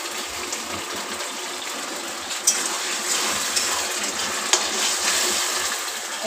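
Oil poured into a hot pan while making fish chili with bhetki fish gives a steady, close hiss and crackle with a few sharper pops, and no one speaks over it.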